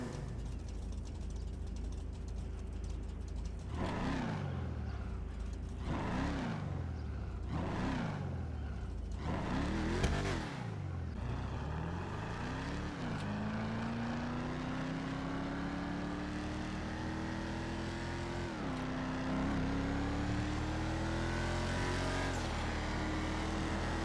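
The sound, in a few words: car engine sound from video game GTA Online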